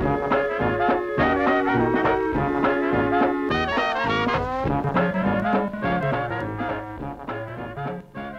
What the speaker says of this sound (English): That's a small sample of the kind of music you can play with the Optigan Music Maker.